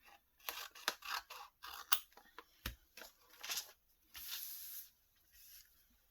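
Scissors snip through a folded paper envelope flap in a quick run of close, crisp cuts, each short rasping crunch separated by brief pauses, ending in a longer sliding cut.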